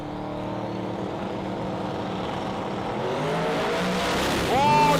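A Pro Mod drag car launches at a sports compact drag racing event in Adelaide, its engine a loud, dense roar that builds steadily, then wavers and shudders near the end as the tyres shake.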